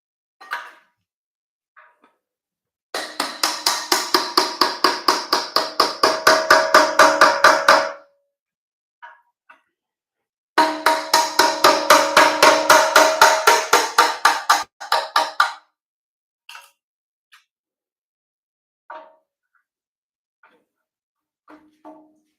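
Two long bursts of rapid, evenly spaced hammer blows ring out during teardown of a Toyota 1MZ V6 engine, each volley lasting several seconds, with scattered single knocks and taps in between.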